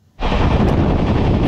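The Venkatadri Express rumbles along railway track in a steady, loud, broadband roar that begins abruptly and holds constant, heard close from on board with no voices.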